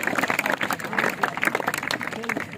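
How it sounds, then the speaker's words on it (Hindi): Schoolchildren clapping at a school magic show, a dense, steady patter of many small hands filling the room, with voices mixed in under the applause. "बेटा जोर से तालियां बजाएं।"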